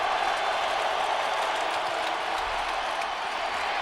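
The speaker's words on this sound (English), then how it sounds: "Crowd is vocal here" Dense, steady roar of a stadium crowd at an NFL game between the Seahawks and Colts in 2009, loud and continuous throughout on a third-down play, with no distinct voices rising above the mass.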